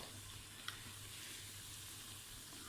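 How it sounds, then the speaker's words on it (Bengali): Bengali jali kebabs frying in a pan for Eid, a faint, steady oil sizzle with one small crackle near the start, quiet and continuous without talk. "এটা ততক্ষণ পর্যন্ত ভাজবেন যখন আপনার মনে হয় যে না ভিতরের পুরটা সিদ্ধ হয়ে গেছে, ততক্ষণ পর্যন্ত এটা ভাজতে থাকবেন।"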